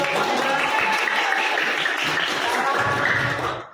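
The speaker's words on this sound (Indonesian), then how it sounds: "Ya, tepuk tangan." A classroom full of people clapping, a dense sustained round of applause with some voices mixed in, fading out at the end.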